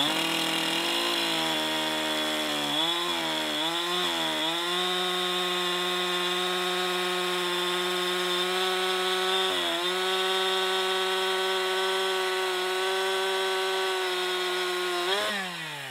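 A Husqvarna-style G372 XP chainsaw with a dull chain cuts through wood, a loud continuous high whining drone with brief dips in pitch as the chain bogs in the cut, close up.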